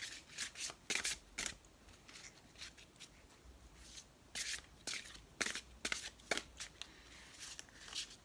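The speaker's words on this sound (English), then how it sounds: "One last shuffle and then I'll split the" Cards are shuffled in quick papery riffles and flicks, soft and close, coming in clustered bursts with brief pauses between.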